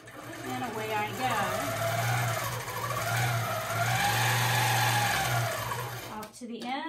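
A longarm quilting machine stitches in free motion, giving a steady, close whirring hum that rises and falls slightly in pitch, with a voice talking over it.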